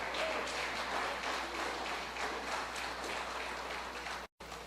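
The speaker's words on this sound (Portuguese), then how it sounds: "Uma salva de palmas ao Senhor." A church congregation claps as praise to the Lord, a broad, steady patter of many hands at moderate level, heard alone before the sound cuts out briefly near the end.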